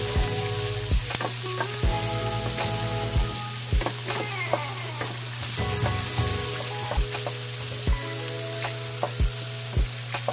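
Tomatoes frying in a pan, a dense steady sizzle with intermittent sharp crackles and clicks of stirring throughout.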